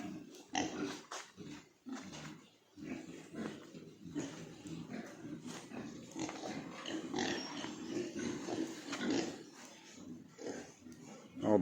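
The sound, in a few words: pigs on a farm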